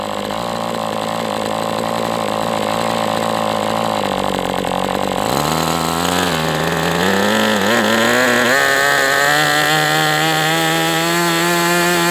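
An MDS 68 FS Pro model engine idles during break-in runs, a loud, steady buzzing drone that dips briefly and then settles at a slightly higher, wavering pitch.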